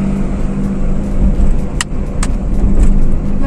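Car engine humming under acceleration during a driving lesson, a steady close rumble inside the cabin that swells slightly, with a couple of brief sharp clicks midway.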